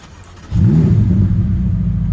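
Ferrari F8 Tributo V8 restarting: quiet for half a second, then a sudden loud start bursts in and settles into a deep, steady, rumbling idle close by, with no talk.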